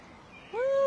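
Birdsong in a spring flower garden at Keukenhof, the tulip and daffodil park in the Netherlands: a single clear rising whistled note swells loudly near the end after faint background murmur.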